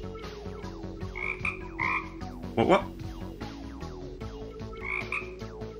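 A frog croaks several times in short nasal bursts, spread through the clip, close by and fairly loud, with one sharper, louder call near the middle. A voice speaks briefly over it.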